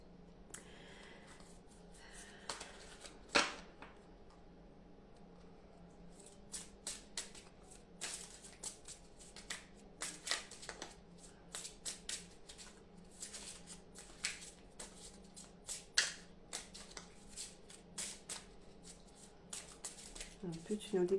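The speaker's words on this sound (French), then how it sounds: "je vais tirer 4 cartes" Oracle cards are shuffled and drawn in a quiet room, a run of soft, close, irregular riffling flicks and slaps of cardboard that continues for about twenty seconds.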